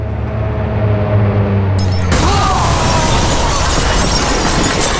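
A loud explosion erupts in the video game Watch Dogs, a sudden broadband blast cutting through a low engine hum and then settling into a sustained roar of debris and noise.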